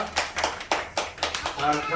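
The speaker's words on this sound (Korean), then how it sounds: "우리 예배 받으신 하나님 감사의 박수와 마치겠습니다" Church congregation clapping in thanks at the end of a Sunday worship service, a short run of loose, uneven claps in a roomy hall.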